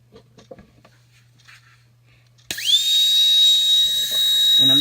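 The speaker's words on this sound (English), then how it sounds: "And I'm just going to drill straight down" Rotary tool fitted with a long 699 tapered burr spins up and drills into a duck eggshell: a few faint taps, then a sudden high-pitched rising whine that settles into a steady, close, shrill drilling tone.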